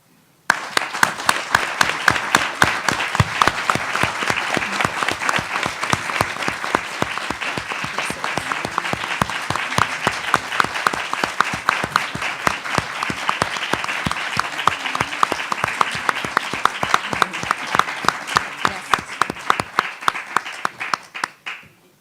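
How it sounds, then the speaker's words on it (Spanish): Sustained audience applause at a book presentation on caring for an elderly adult, dense rhythmic clapping from many hands that starts abruptly and continues loud and steady for over twenty seconds before cutting off. "la duración de los aplausos fue más largo que el promedio de las presentaciones de este libro"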